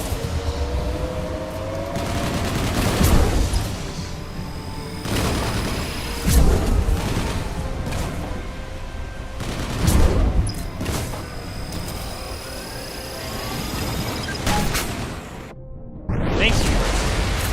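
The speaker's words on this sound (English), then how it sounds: "Let me shoot the fucking gun." Gunfire and heavy booms from the sci-fi shooter game Mass Effect 2, with repeated loud blasts and bursts of shots over dense, continuous battle noise and talk mixed in throughout.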